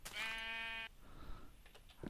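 A baby sheep in Minecraft lets out one short, high-pitched, buzzy bleat, clear and close, followed by faint scattered game sounds.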